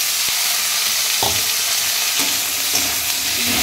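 Potatoes and tomatoes sizzle loudly in a hot pan, a steady dense frying hiss with a few sharper crackles and stirring knocks, close up and with no talking.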